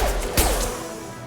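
A single weapon shot in the video game Mass Effect 2, one sharp crashing blast with a brief whoosh, up close over a steady bed of game ambience.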